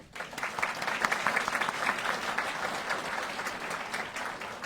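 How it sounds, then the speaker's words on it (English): Steady applause from a large audience at a military battalion graduation ceremony, many hands clapping loudly and evenly for several seconds with no speech over it. "Round of applause."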